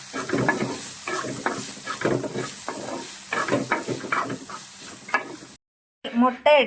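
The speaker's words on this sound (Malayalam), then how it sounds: "ഇതെല്ലാം കൂടി നന്നായിട്ട് യോജിപ്പിച്ചതിന് ശേഷം നമുക്കൊന്ന് മൂടി വെച്ച് ഒന്ന് വേവിക്കാം" A spiced mixture is stirred in a pan and sizzles as it fries, with repeated scraping strokes over a steady hiss before the sound cuts out briefly and resumes.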